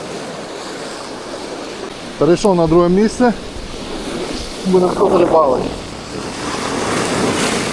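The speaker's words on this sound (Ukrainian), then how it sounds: "Трішки нас вмив океан." Ocean surf and wind rush steadily around anglers fishing from a boat on the open Atlantic, with someone speaking briefly twice over the constant wash of waves.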